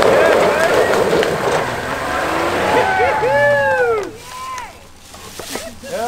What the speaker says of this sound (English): I was revving out.